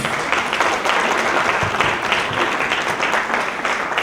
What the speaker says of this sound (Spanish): Se vale aplaudir.